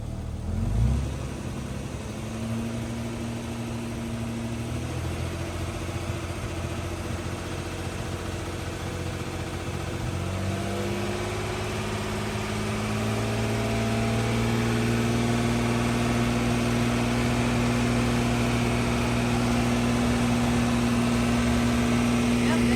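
A car engine idles steadily after a fuel injector repair, then rises in pitch as it is given a little gas and holds a higher, smooth hum, with people talking over it.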